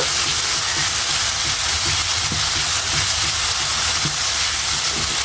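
Katla fish curry with chili powder and other spices sautés in a pan, giving a dense, steady, close sizzling hiss that holds evenly throughout with no voices.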